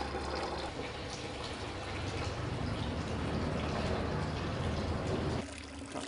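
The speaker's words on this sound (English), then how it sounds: "just let the water, the liquid just filter down in its own time" Sparge water drains and trickles through a bed of malted barley in a home-brew mash tun, a steady, close, hissing wash of liquid that runs for several seconds and then drops off abruptly near the end, with no one speaking.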